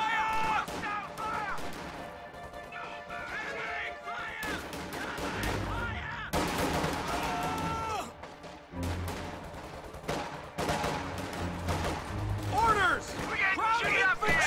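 Gunfire and explosions from a strategy video game battle between Grenadiers and Riflemen at range, with scattered shots and bursts over a steady layer of game sound while a commentator talks throughout.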